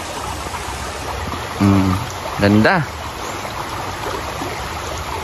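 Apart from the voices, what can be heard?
stream of clear water flowing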